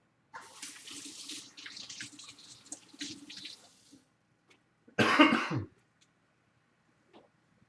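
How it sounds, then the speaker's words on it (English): Tap water runs steadily into a kitchen sink as hands are washed, lasting several seconds, then stops. A short, loud splash or burst follows, with no talking. "I'm going to wash my hands real quick"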